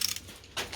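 Wrench turning a nut on a tank screw, a couple of short metallic ratcheting clicks close by.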